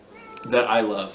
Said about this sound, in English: There's a cat underneath the camera that is meowing